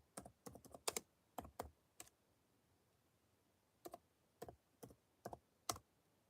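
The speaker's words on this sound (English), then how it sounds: "Let me type this in." Quiet computer keyboard typing in two short bursts of clicky keystrokes separated by a pause of almost two seconds, close and faint against a soft background hiss.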